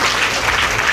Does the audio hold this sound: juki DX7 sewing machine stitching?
no